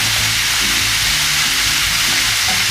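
Vegetables for a green shakshouka sauté in a pan, giving a steady, loud, dense sizzle and hiss throughout, with faint scraping stirs underneath and no talking.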